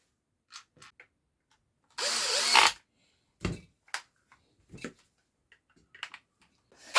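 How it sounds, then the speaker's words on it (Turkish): A short burst of a cordless screwdriver whirring for under a second as it drives screws into a repaired battery pack, followed by scattered clicks, taps and handling noises nearby. "Ve şimdi vidalarını atmaya geçiyoruz."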